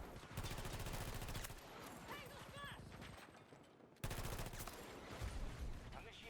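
VHX-D3 rifle firing in Battlefield 2042, dense rapid automatic gunfire running through the clip, with a short lull mid-way before another loud burst resumes.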